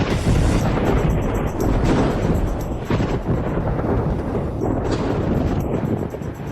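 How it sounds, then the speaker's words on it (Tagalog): Thunder from a lightning strike rolls in as a loud, deep, sustained rumble with several swelling booms, filling the whole stretch without any voices. "Saan nanggaling ang kidlat ng langit?"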